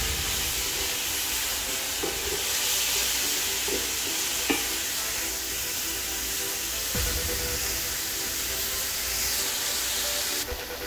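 Aromatics with bay leaf and thyme sautéing in a pan for a beef and pork soup cooked outdoors: a steady, broad sizzle and hiss, with a few faint scrapes of stirring, close and continuous throughout.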